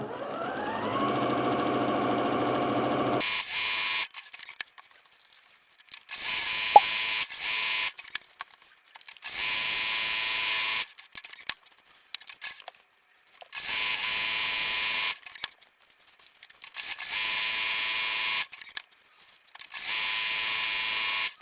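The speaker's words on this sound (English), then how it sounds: "I'm going to do the quilted lines on them first, and whilst I'm sewing" A sewing machine stitches quilted lines across makeup bag fabric, running in about six steady bursts separated by short pauses, loud and close with no talking.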